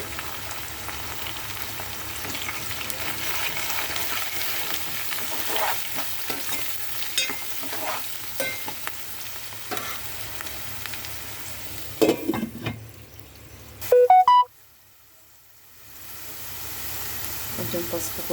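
Curry leaves, green chillies and ginger sizzle with softened onions in hot oil for a potato curry, a steady crackling fry with stirring scrapes, briefly flaring louder near the end before a short quiet gap.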